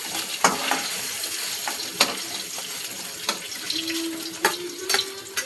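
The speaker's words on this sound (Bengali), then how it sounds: "পনিরটা একটু হালকা করে ভেজে নিলাম বন্ধুরা" Paneer lightly frying in a pan: a continuous soft sizzle with sharp scattered pops and utensil clicks, and a faint sustained tone partway through.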